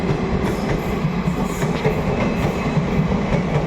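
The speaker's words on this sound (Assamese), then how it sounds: "এই ট্ৰেইন আছে ট্ৰেইন দেখো" Passing train, a loud close rumble with rhythmic wheel clatter over the rails, steady and continuous through the whole stretch, no talking heard.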